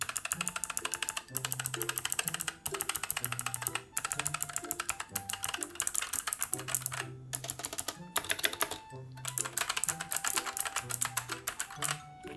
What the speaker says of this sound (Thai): เดี๋ยวเร ามาฟังเสียงคีย์บอร์ดกันก่อนดีกว่าค่ะว่า มันเป็นเสียงประมาณไหน